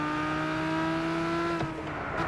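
A Lamborghini in the racing game Gran Turismo 6 holds a steady high engine note, loud and continuous, with a brief tire scrub near the end and no talk.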